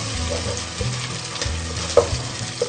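Garlic-ginger paste frying with tomatoes for chana dal, a steady low sizzle and stir with a few soft clinks, close and fairly quiet, no talk.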